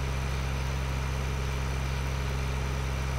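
Tractor engine in Farming Simulator 2013 labouring under a heavy trailer, a steady loud low droning rumble with no variation, heard alone.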